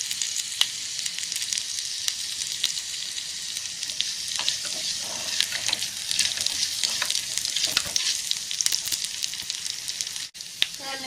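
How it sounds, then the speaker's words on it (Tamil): Mustard seeds and urad dal splutter in hot oil for a Tamil mor kuzhambu, a dense, continuous sizzle full of sharp pops and crackles, close and loud throughout. "இந்த கடுகு உளுந்தம் பருப்புலாம் நல்லா பொரிஞ்சிட்டு இருக்கு"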